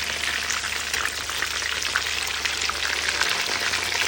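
Chicken 65 pieces deep frying in hot oil, giving a dense, continuous crackling sizzle that stays loud and even throughout, heard up close with no voices.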